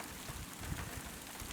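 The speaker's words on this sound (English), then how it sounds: "it started to rain pretty hard" Hard rain falls outdoors near a field and heron rookery, a steady dense patter lasting under two seconds with no voices.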